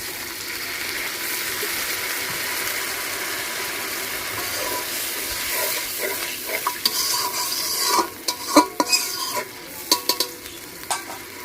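Spiced masala frying in a pan with water poured in for gravy, giving a steady broadband sizzle and hiss, then clattering spoon stirring strokes and scrapes growing busier in the last few seconds, close and fairly loud with no talking.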